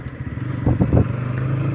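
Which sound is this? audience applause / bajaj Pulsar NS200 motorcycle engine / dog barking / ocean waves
bajaj Pulsar NS200 motorcycle engine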